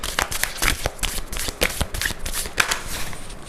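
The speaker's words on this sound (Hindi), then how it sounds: "एक बार फिर से शफल करते हैं" A tarot deck is shuffled by hand, a dense, close run of riffling and flicking card slaps repeating with a quick, uneven rhythm.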